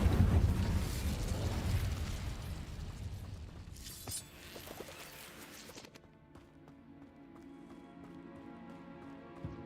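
An Incendio fire spell bursts in Hogwarts Legacy, a loud roaring whoosh of flame that swells at the start and fades, followed by a sharp crackling flare and quieter rumbling aftermath.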